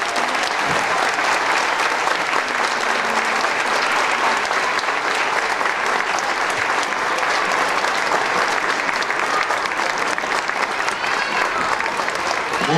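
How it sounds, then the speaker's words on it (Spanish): Sustained, dense applause from a large audience after a stage musical performance, loud and unbroken throughout with a crowd murmur blended in, no gaps or fading. "Un fuerte aplauso para ellos."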